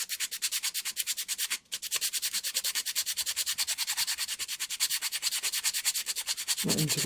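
Steady back-and-forth rasping as 600-grit abrasive is worked over the metal of a Sig Sauer M17 air pistol, a fast regular rhythm of strokes that runs almost nonstop, with one brief pause and a softer shift near the end.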